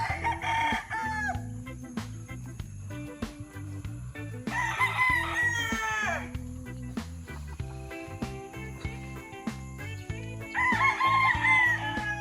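Gamefowl stags, broodstag roosters, crow repeatedly, with several loud near crows rising over a steady background of other birds calling, in bursts at the start, middle and end.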